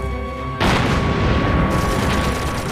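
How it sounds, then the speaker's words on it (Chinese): A single heavy cannon shot booms in a war film battle scene, a sudden loud blast that bursts in near the start and rolls on as a dense, sustained rumble with no talk over it. "清明也太神了，竟然用一门教练炮能够挑战三三幺团的炮兵队、啊。"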